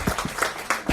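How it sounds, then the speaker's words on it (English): Audience applause for the panel members at a business conclave, a short burst of scattered claps at close range with uneven rhythm and no talking over it. "Can we have a round of applause for everyone?"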